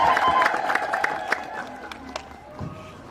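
At a wedding, a crowd makes a loud, lively mix of voices and cheering that fades toward a quieter murmur, with talking among them.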